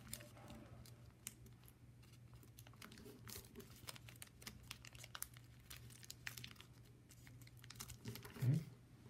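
Paper for a craft is folded and flipped over, making soft close crinkles, creases and taps that come in scattered bursts over a low steady hum.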